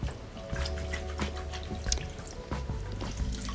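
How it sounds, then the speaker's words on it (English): Hair locs are dunked and squeezed in a basin of apple cider vinegar water, giving soft repeated sloshes and drips, close and quiet with no talk. "I'm dunking my hair in and out the water, and I'm kind of squeezing it"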